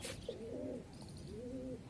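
A pigeon coos softly, two drawn-out warbling calls with a pause between them, faint against a quiet outdoor background.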